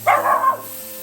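A pet dog gives a single short bark, close and loud, while trying to get into a kitchen where seafood gumbo is being made.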